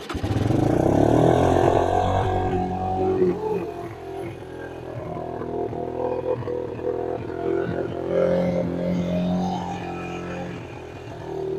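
A Suzuki LT160 quad bike that sat unused for three years fires up and settles into a rough, uneven idle, with a loud first burst of revs and sputtering engine noise.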